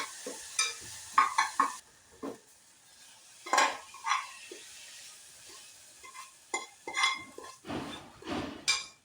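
Cooked coconut filling is scraped from a pan onto a plate: a metal spoon clinks and scrapes against the cookware in short, irregular bursts, close by, over quiet gaps and a faint sizzle.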